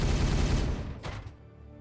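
Rapid snapshot gunfire hits orks in the PC strategy game Warhammer 40,000: Regicide, a dense booming burst of shots for about a second that thins into a fading rumble.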